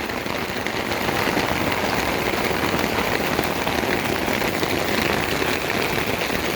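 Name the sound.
rain falling on an umbrella in a park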